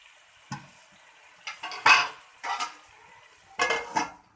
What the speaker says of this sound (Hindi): अब इसको कवर कर देंगे